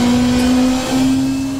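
A turbocharged tin-top race car engine in Assetto Corsa holds a loud, close, steady drone with a strong buzzing tone and almost no change in pitch.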